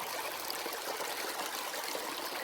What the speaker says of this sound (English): This is a very different part of the creek.